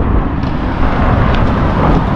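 Loud, steady sandstorm wind roaring and buffeting against the microphone, a continuous rushing noise with no pauses.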